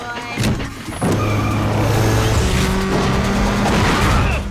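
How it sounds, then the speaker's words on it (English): A street racing car revs hard and climbs to a screaming redline, with a broad, loud engine roar that stays sustained and close after a brief lull, with a vocal sound briefly mixed in. "He shifted, started redlining, throwing flames out the back"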